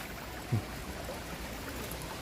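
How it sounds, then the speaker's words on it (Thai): Water runs steadily in a stream near a farm field, a continuous soft rushing flow with one brief low thump early on. "น้ำนี่ไหลตลอดจักเนาะ"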